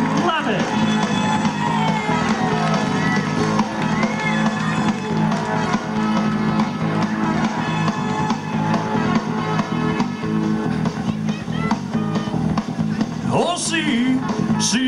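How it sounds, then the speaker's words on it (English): A concert audience cheers, whoops and shouts as a tribute performer comes on stage, a dense and steady crowd roar that fills the whole stretch at close range. "let's have a big round of applause"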